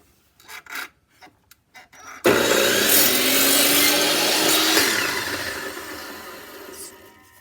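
A hand saw trims a knot off a wood board with a steady, rasping back-and-forth stroke lasting several seconds, loud and close, after a few brief knocks and handling sounds.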